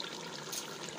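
Water pours into a simmering mutton pulao masala, a short soft liquid rush that ends with a brief splashing burst.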